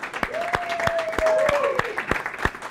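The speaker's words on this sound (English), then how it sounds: "Give a round of applause to everyone." A small group at a student security club meeting applauds one another for interviews and job offers. The handclaps are sparse and distinct at a loose, even pace, and a voice is heard talking between them.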